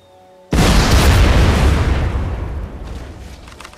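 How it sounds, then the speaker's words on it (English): A tank blown up in The Saboteur, set in the Champagne-Ardenne countryside: one sudden, loud, close blast with a heavy low rumble that slowly decays over a few seconds, with faint debris afterward. "Let's blow up the tank."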